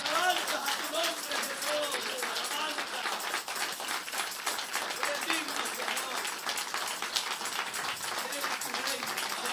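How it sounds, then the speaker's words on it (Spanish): Strong sustained clapping from a church congregation, dense and continuous, with voices calling out and cheering over the applause the whole way through. "Arriba, arriba ese aplauso."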